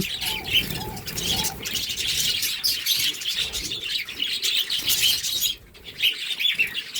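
Budgerigars at a breeding farm chirp steadily and flap their wings while being caught and placed into a cage, a dense, lively chatter of close tweets with a brief lull near the end.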